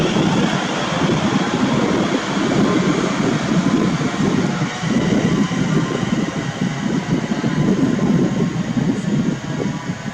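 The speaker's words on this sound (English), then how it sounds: "Now departing is the 1512 London North Western Railway service to London Euston." London Northwestern Railway passenger train departing Stafford station, a steady, loud, close engine and wheel rumble with a continuous drone throughout, no voices.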